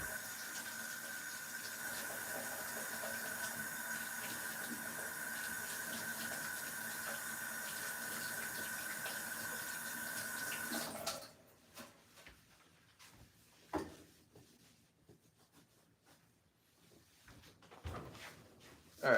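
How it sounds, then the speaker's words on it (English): A kitchen tap runs steadily for about eleven seconds while hands are washed beneath it, then cuts off, leaving scattered soft knocks and handling noises in a quiet room. "Just throwing out the packaging and washing my hands."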